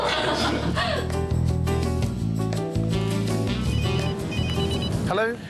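A telephone rings in a restaurant-style home setting, its repeated bell tones sounding loudly over music and background voices.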